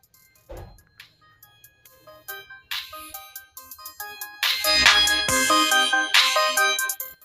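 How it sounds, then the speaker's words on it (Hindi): A bright song plays through the small speaker of a repaired OnePlus Wireless Z Bluetooth neckband earphone. It is tinny and thin, with quick melodic notes that grow busier and louder midway, and no voice can be heard over it. "चलिए मैं यहाँ पर सॉन्ग प्ले कर लेता हूँ।"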